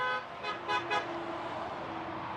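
A car horn beeps three quick times at moderate distance, then a steady engine hum carries on beneath.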